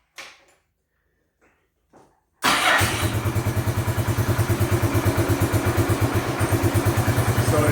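A Bombardier Quest 650 ATV engine is quiet at first, with only a few faint clicks. Then it cranks and catches, settling into a loud, steady idle with an even, rapid pulsing thump.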